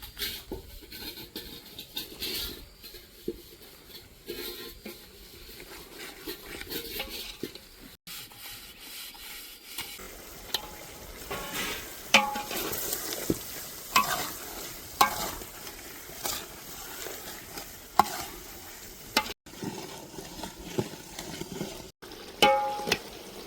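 Dry onions sizzle steadily in a pan for a village-style tuver thotha, with green onion and green garlic going in, as a utensil scrapes and stirs in irregular strokes, close up and without talk.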